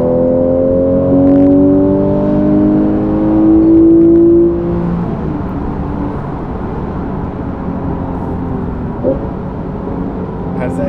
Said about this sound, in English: That engine noise, I don't know if this mic can pick it up